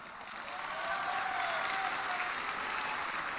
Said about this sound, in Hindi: देखो एसपी साहब आपको ताली मार रहे सब लोग, लाहौर के लोग।